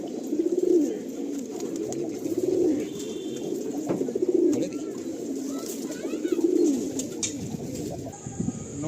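Pigeons kept for sale coo repeatedly in soft, low, rolling calls at a steady rhythm, close by, with faint background noise between calls.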